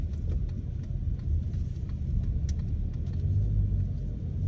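A car engine runs with VTEC engaged, a steady loud rumble from inside the moving vehicle that holds evenly throughout with no voices.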